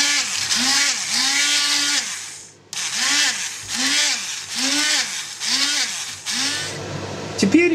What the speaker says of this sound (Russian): И вооружимся погружным блендером